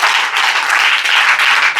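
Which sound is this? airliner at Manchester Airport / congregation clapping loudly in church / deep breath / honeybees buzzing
congregation clapping loudly in church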